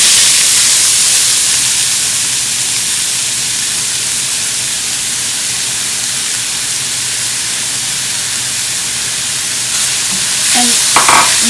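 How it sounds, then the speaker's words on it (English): Chopped onion and cumin seeds fry in a pan as kheema paratha is made, giving a steady, close broadband sizzle that runs throughout, with a few soft stirring knocks near the end. "after cumin seed we will add our chopped onion"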